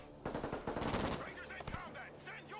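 Rapid automatic gunfire rattles in a military real-time strategy game, dense bursts of shots crackling close and loud, with a few heavier reports mixed in.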